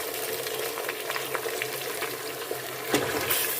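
Chicken frying in a pan with garlic and ginger paste for a homemade dum biryani, a steady close sizzle with brief stirring scrapes and a sharper spurt near the end.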